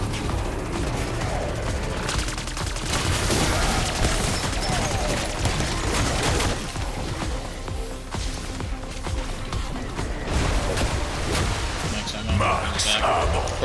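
Dense gunfire in a Call of Duty zombies match blends with booms and game effects in a continuous, loud mix under occasional talk.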